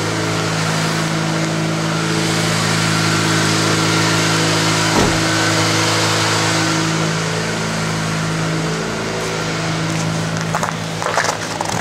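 A car engine idles and warms up after a cold start in dangerously cold 2014 winter weather, a loud, steady close-up drone with a low hum and one brief knock midway.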